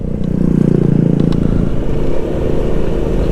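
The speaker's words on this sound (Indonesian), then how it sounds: "pelindung mesin, pelindung crankcase kena aspal" Motorcycle crankcase guard of a Honda PCX 160 scraping on asphalt while leaning too far, a loud rough grinding rasp over engine rumble, close and continuous for a few seconds.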